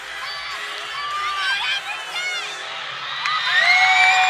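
A crowd at a college women's gymnastics meet between GW, Maryland and Towson cheers wildly after a floor routine, with loud sustained shouting, whoops and shrill whistles that swell toward the end.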